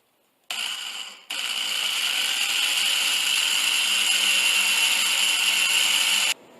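A power drill bores pilot holes in wood for a wooden chest, a close, steady high whine in two runs with a brief stop between, stopping abruptly at the end.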